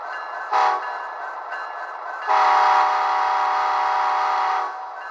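An HO scale Union Pacific model locomotive horn gives a brief blast, then after a pause sounds one long, steady harmonic honk for about two seconds, loud and close.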